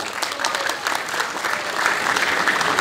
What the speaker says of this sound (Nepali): डिएभीलाई एकचोटि फेरि ताली